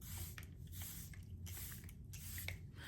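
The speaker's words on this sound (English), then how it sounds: "now I'm going to apply some Airbrush Flawless Setting Spray so that we can set it." Airbrush Flawless setting spray misted onto a made-up face in several close, soft hissing bursts separated by brief pauses, with no talking.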